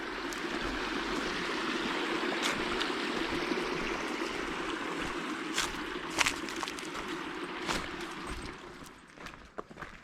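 A small creek along a hiking trail in Bartow County, North Georgia, water flowing and babbling steadily at close range, with a few scattered clicks and footstep-like taps toward the end.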